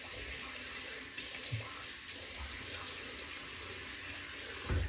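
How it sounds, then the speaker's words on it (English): Tap water runs steadily into a sink while alum is rinsed off a face after a kamisori straight-razor shave, a continuous close hiss of flowing water with small splashes and no talking. "Now I'm rinsing off the alum."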